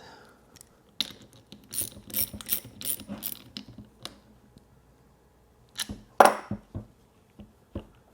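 Clicking and ratcheting of a nut being tightened down over a lock washer on a rebuilt Harley-Davidson starter solenoid, a run of quick close metallic clicks followed by a few sharper isolated clacks, with no talk.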